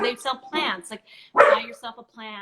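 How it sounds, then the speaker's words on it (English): A pet dog barks a few times in the background indoors, short sharp yaps interleaved with a person talking close by. "That's my dog barking."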